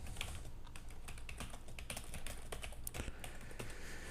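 Steady typing on a computer keyboard, a quiet, continuous patter of key clicks with irregular rhythm and no talking.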